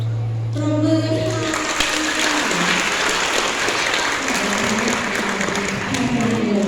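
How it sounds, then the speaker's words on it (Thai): An audience at the 2022 international mask performance show in Loei province, Thailand, breaks into loud, dense applause that stays steady throughout, after a brief voice at the start. "ปรบมือค่ะ"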